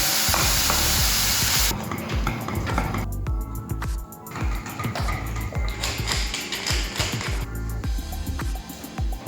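Onion stirred and frying in olive oil in a saucepan, a steady loud sizzle with repeated scraping stirs throughout, the hiss brightening after the first couple of seconds.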